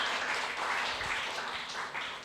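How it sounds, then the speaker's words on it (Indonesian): A church congregation applauds during an Indonesian worship service: steady, quiet, dense clapping from many hands that fills the room for about two seconds and fades slightly at the end. "Tepuk tangan buat Tuhan Yesus."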